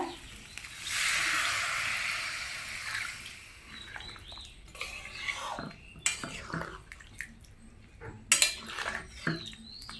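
A little water is poured into a drumstick and potato masala curry, a brief pouring splash followed by clinking utensil and pot sounds and stirring, close by, no talking.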